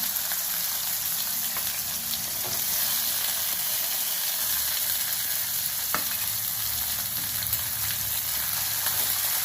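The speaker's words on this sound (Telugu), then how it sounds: "కొంచెం జీలకర్ర ఎగిపోయి ఉల్లిపాయలు వేస్తున్నాను" Onions sizzling in hot oil with cumin seeds, chana dal and urad dal in a frying pan for a Telugu cabbage and green pea curry, a steady loud crackling hiss with occasional pops, close and continuous.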